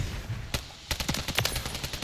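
Sharp bursts of gunfire in Call of Duty: Modern Warfare III crack in a rapid, uneven string, a single shot first, then a quick volley of repeated shots.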